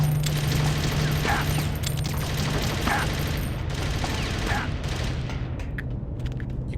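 A gun turret in Metal Gear Solid: The Twin Snakes fires in a continuous rattling barrage, loud and close throughout, with a few heavier impacts standing out and a steady mechanical drone beneath.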